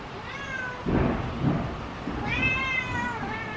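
A cat meows indoors during a storm, with two drawn-out, close calls separated by a short gap of duller rumbling noise.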